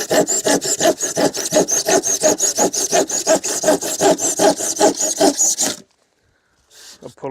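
Insulation bricks being cut with a hand saw on a building site: steady, rhythmic back-and-forth rasping strokes, close and loud, that stop abruptly, followed by silence and a brief faint rustle.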